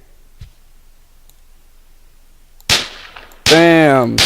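Gunshots in the video game Deadbolt: after near silence, two sharp, loud blasts ring out, the second followed by a ringing, pitched tail.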